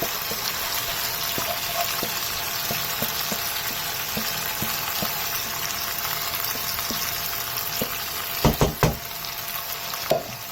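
Chicken tikka masala sizzles steadily in a hot pan, a continuous bright frying hiss, with a few sharp splashy bursts near the end as the sauce goes in.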